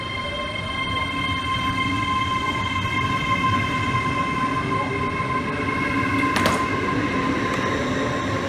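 A train stands or rolls at a railway station, giving a steady loud rumble with sustained tonal hums and a brief sharp screech near the end, and no voices.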